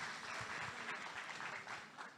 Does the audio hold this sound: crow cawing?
no